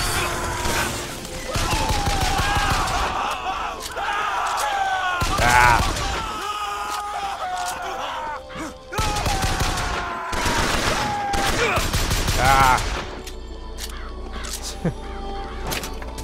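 Gunfire in the game Bioshock Infinite: repeated bursts of rapid shots coming in clusters with short gaps, mixed with crow caws and someone talking over the action.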